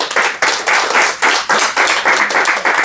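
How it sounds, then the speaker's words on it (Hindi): An audience in a classroom lecture claps in unison, producing loud, rhythmic bursts of collective clapping at a steady pulse, repeated about half a dozen times, close and without talk. "जब ताली एक बजाओ, क्लैप करो ताली।"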